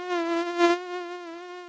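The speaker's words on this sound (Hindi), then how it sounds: "मच्छर भी तीनों के पीछे उड़ते उड़ते गांव में आ जाती है।" A giant cartoon mosquito drones in flight with a steady, loud, reedy buzz that swells briefly in the middle and then holds level, with no other sounds.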